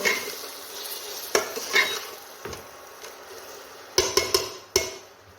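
Chili powder and salt stirred into a pan of seasoning for a chickpea curry, a spoon scraping and clinking against the metal in several sharp strokes over a soft, steady sizzle.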